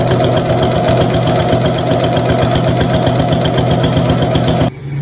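A sewing machine runs fast and steady, stitching a pre-printed fabric zipper pouch with a long stitch. The rapid mechanical clatter is close and loud, then it stops abruptly just before the end.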